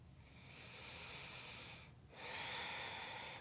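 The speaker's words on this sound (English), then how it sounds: "Let's start to take some deeper breaths." Two long, airy breaths drawn close to the ear in a calm exercise setting, the first steady for nearly two seconds, a brief pause, then a second deep breath, with no talking.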